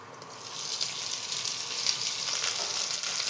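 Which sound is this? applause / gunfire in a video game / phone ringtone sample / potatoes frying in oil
potatoes frying in oil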